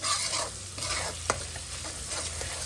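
Ginger garlic paste fries in a hot pan, a close, steady sizzle broken by the scrape of a stirring spoon and one sharp clink of metal partway through.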